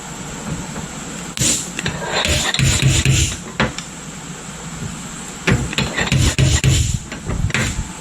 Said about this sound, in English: May have to sand it a little, thin it out first.